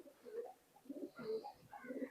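Teddy pigeons, a Pakistani high flying breed, coo in soft repeated throaty bursts close by, several rounded calls overlapping across the stretch with no voices over them.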